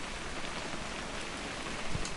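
Steady rain in the video game What Remains of Edith Finch, a dense, even patter of drops with a faint low rumble, continuous and without voices.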